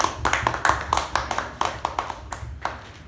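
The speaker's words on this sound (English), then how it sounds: "Can we have a huge round of applause to the speaker and the general?" Audience applause at a Toastmasters club meeting, a steady patter of many hands clapping in a room, moderately loud and continuous throughout with no talk over it.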